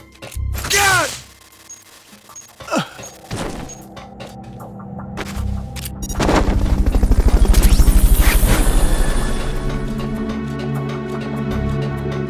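A Fulton recovery helicopter in Metal Gear Solid: Peace Walker swells in with a loud, rhythmic rotor thump, after sharp whooshing and impact effects early on.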